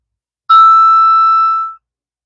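A doorbell ding-dong sound effect plays once, loud and clean, a sustained bright chime that rings for about a second and fades with no talking.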